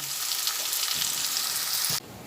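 Mixed ingredients for fried rice sizzle loudly and evenly in a hot pan, a close, dense frying hiss that stops abruptly after about two seconds.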